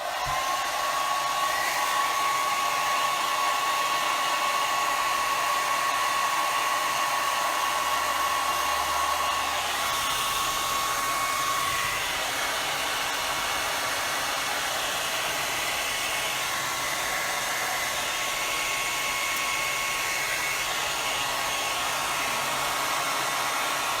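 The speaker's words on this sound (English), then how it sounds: "Touch this up with the hair dryer again." Hair dryer blowing steadily and close for a long stretch, drying a glass canister craft piece, with a constant whooshing hum and a slight shift in tone partway through.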